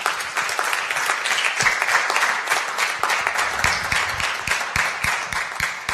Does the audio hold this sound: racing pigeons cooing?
no